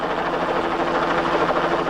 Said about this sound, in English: mechanical failure like this jammed rear helicopter rotor